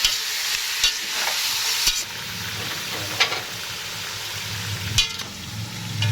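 Pigeon peas, pork and jackfruit sauté in a pan with a close, steady sizzle, broken by a few sharp scrapes and knocks of a spoon stirring the mixture, and no one speaking.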